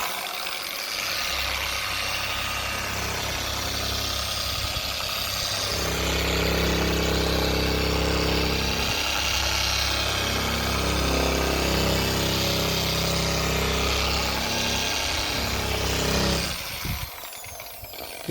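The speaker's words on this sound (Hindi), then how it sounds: "उसके बाद अपने मशीन पॉलिशर से ही स्लो स्पीड पे, यानी कि यहाँ पे मैंने स्पीड 1 पे रखी हुई है, लोएस्ट RPM पे रबिंग करना स्टार्ट कर दीजिए।" Machine polisher running at its lowest speed setting, rubbing a car headlight during restoration: a steady, close motor whine and hum held for about sixteen seconds, then cutting off near the end, with no talking.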